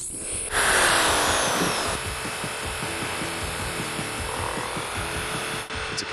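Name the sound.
machine grinding rice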